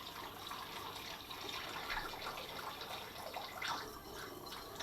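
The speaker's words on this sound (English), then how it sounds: "So here's the last bit of the water being added in." Cold water poured into a home-brew fermenter holding a sugar wash, a continuous splashing, trickling pour with small fluctuating gurgles that swells slightly toward the end, heard alone and fairly faint.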